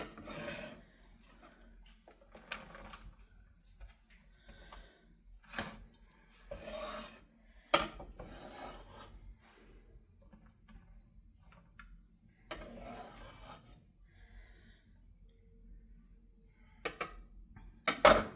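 Knife slicing green onions on a cutting board during broccoli salad preparation, a scattered series of quiet rasping cuts and taps with pauses between strokes, close by and without talk.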